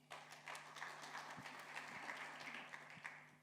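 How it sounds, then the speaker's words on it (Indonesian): A church congregation at a Pentecostal thanksgiving service claps together in steady rhythmic applause, a moderately loud hand-clapping wash with a low steady hum underneath. "Saya tepuk tangan buat Tuhan."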